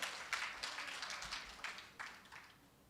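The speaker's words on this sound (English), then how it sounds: "Give a round of applause." Audience applause at a teachers' union retirees awards ceremony, a faint, distant patter of many hands clapping that gradually thins out.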